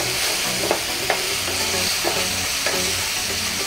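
Ginger-garlic paste fries with browned onions in a pan for kofta made from young jackfruit, a steady close sizzle broken by a few sharp clacks of a spoon stirring against the pan.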